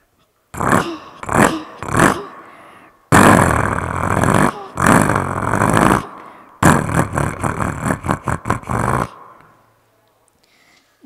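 Mimicking a Swaraj 855 tractor, a voice gives short puffing bursts, then two long loud engine-like roars, then a fast chugging run of rapid pulses that stops abruptly, followed by near silence.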